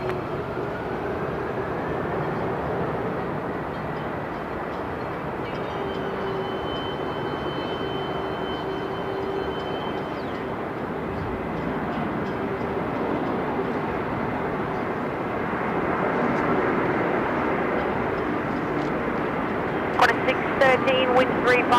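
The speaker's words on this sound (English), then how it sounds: "China Southern 330 featuring for the second time on today's live show" A China Southern A330 airliner at Melbourne Airport gives off a broad, steady jet engine roar that builds slowly over time, with air traffic control radio voices heard alongside it.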